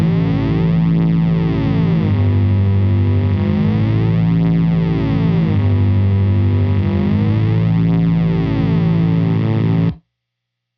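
Distorted electric guitar riff through a Rainger FX Mini Drone pitch-drop pedal set a whole step down, thick lowered tone, chords repeating steadily and loud, ending abruptly near the close.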